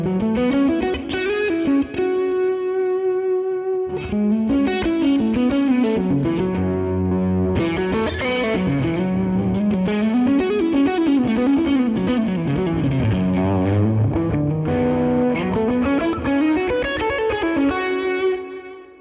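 Electric guitar through a clean amp modeled on a Fractal unit with no drive, played continuously with chords and melodic runs, full and slightly roomy, with a slightly woofy bass, no talking.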